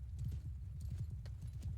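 A horse gallops in the video game Mount & Blade Bannerlord, its hooves thudding in a fast, steady, repeating rhythm, close and continuous throughout, with no speech over it.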